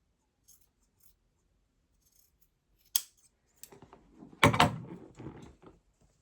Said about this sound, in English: I just take my scissors and just cut